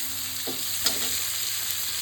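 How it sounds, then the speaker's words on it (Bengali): Chopped onions sizzling steadily in a hot pan, a close, even frying hiss with a brief stirring scrape near the middle. "পেঁয়াজটাকে একটু লালচে লালচে করে আমি ভাজা করব।"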